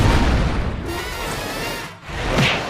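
A loud cartoon cannon blast from a SpongeBob SquarePants episode booms out, followed by a rushing whoosh and a second burst of noise near the end.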